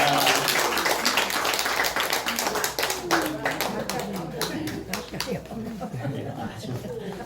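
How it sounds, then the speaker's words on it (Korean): A church congregation claps during a Sunday worship service, loud at first and thinning out gradually, with sharp individual claps, some laughter and voices talking over it. "다시 한번 우리 축복의 박수 하겠습니다"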